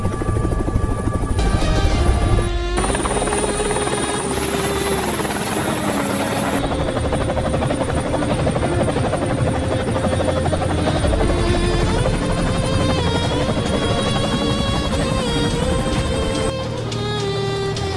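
A helicopter comes in to land with a loud, continuous rotor and turbine roar and a steady whine, close and dominant throughout.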